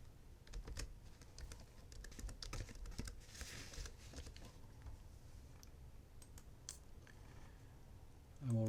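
Someone types a project name on a computer keyboard while setting up an automotive EMC test project in software: a quick, steady run of light, close key clicks that continues throughout.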